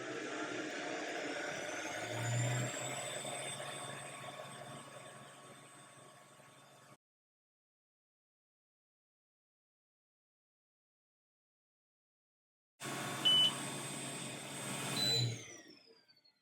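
An xTool F1 laser cutter runs a cutting job on wood, its fan giving a steady whirring hum with a thin high whine. The sound drops to silence partway through, then resumes.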